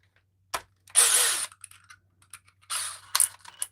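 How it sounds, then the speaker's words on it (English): A DeWalt cordless drill runs in short bursts: a half-second whir, a pause, then a longer spin with scattered clicks and a final burst, close and fairly loud with no talk. "And then when we take DeWalt's drill"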